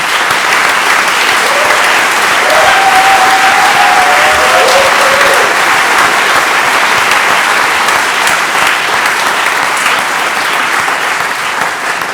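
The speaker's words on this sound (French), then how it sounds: "Je vous invite à les applaudir" Loud, steady applause from a festival audience at the NIFFF 2016 opening ceremony, a dense wash of clapping that holds for about twelve seconds with a few faint whistles near the start.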